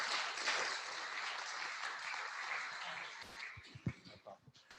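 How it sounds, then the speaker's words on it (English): At a political gathering a quiet audience applauds Kurt Hartman, a soft wash of clapping that gradually thins toward the end, where a few scattered claps and small knocks remain. "Let's give Kurt Hartman a round of applause"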